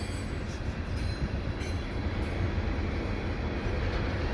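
A CPKC unit tanker train with CP and KCS locomotives passes at Dorval, a dense continuous roar of rolling cars with faint wheel squeal, steady and fairly close.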